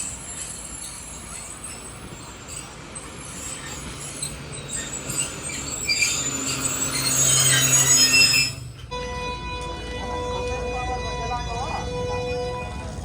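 A train coach pulls in at a platform in Sindh, its wheels squealing loudly and rising to a screech before it halts, then a steady hum continues with faint voices around.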